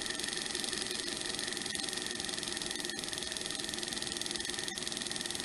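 A small Sunnytech hot air Stirling engine model runs on without heat, giving a steady, close mechanical whir with a fine rapid rhythmic ticking throughout.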